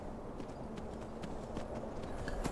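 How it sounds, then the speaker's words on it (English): Horse hooves clip-clopping in Skyrim, a steady run of hoof beats at a walking pace over a constant low game background, moderate and mid-distance, with no talking. "There's the horse. That's her horse."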